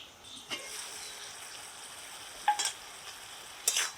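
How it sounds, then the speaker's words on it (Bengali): Vegetables, including stem pieces and slit green chillies, sizzle in a pan for a tengra fish curry, with a soft steady frying hiss and a few sharp scrapes and clatters as a spoon stirs them. "একটু নেড়ে চেড়ে দিচ্ছি"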